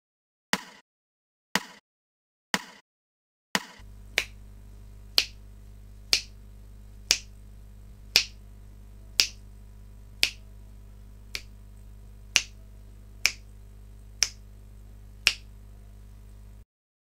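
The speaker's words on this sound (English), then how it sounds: "Clap the following rhythm." A short sharp sound like a finger snap or single hand clap repeats in a rhythm exercise: four spaced hits alone, then evenly timed hits over a steady low drone, each crisp and close.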